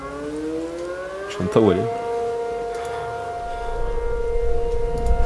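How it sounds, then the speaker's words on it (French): Sirens wail in a Minecraft weather mod, several rising and falling tones sounding loud and sustained together while someone speaks French over them. "je vais dormir avec les sirènes qui se déclenchent"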